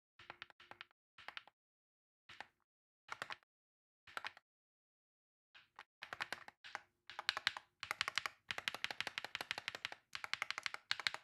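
Crisp, clacky typing on a Wooting 60HE+ keyboard with pre-lubed switches and new keycaps, starting as scattered keystrokes with gaps, then building into a fast, steady stream of close, clear taps.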